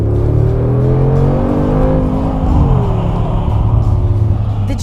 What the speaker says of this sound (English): a 4-liter V8 bi-turbo engine offering 585 horsepower, which sounds great even from inside the car